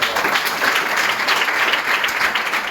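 A church congregation claps continuously, a dense, steady roar of many hands filling the whole stretch at close range.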